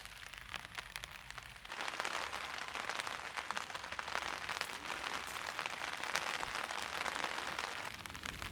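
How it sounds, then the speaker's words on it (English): Rain at night on a bike tour through Germany starts as a soft patter, then thickens after a couple of seconds into a dense, constant rush that keeps up steadily with no talking. "It's pretty dark outside. The rain is picking up."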